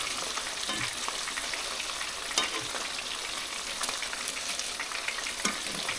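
Bluegill fish frying in a pan of oil, a steady dense sizzle and crackle holding even and close throughout, with a few sharper pops standing out, and no voices.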